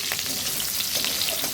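Chopped onion and green chilli fry in a pan, sending up a dense, even sizzle close up with faint stirring beneath, steady throughout and with no speech.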